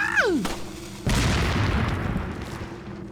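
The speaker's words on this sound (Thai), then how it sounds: "ระเบิดมือ ระเบิดมือ ระเบิดมือ" A hand grenade blast in the Resident Evil 4 video game: a sharp falling whistle, then one loud booming explosion with a long rumbling decay, heard close with no speech over it.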